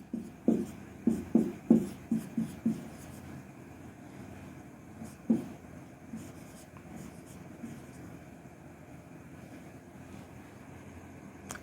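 Marker or pen tapping and scraping across a board while algebraic terms are written, a quick cluster of sharp strokes at first, then sparse, fainter marks against a quiet hum.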